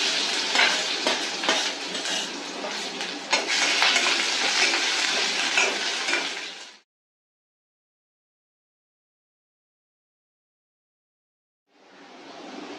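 Onion and crushed garlic frying in hot oil, a loud, steady, close sizzling hiss that stops suddenly, followed by silence, then returns more quietly at the end.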